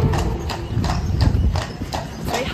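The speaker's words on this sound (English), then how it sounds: "Me, Rob, and Dan are on a horse carriage." Horse hooves clip-clopping in a steady, even rhythm as the horse pulls a carriage carrying passengers, loud and close, with faint voices underneath.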